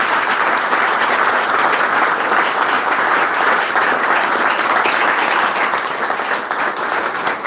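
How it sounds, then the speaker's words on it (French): An audience at a gathering in Cameroon claps for themselves in a dense, steady roar of applause that holds at full strength for the whole stretch. "Applaudissez alors pour vous-même."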